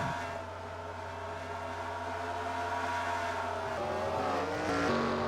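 Race cars in NASCAR Racing 2003 roar through turns 3 and 4, a dense layered engine whine that holds steady then shifts pitch as cars pass, loud and continuous with no talk.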